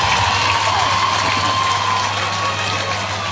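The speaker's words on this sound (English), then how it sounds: "Come on, give them a round of applause." Crowd applause and light cheering at a military passing out parade rise in a steady, dense wash of clapping, fairly loud and continuous throughout, with no clear speech.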